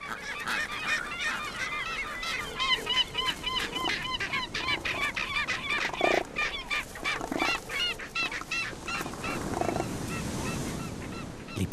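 Seabirds call noisily amid an elephant seal colony on the Crozet Islands, a dense, continuous chorus of overlapping honking, squawking cries close by with no talk.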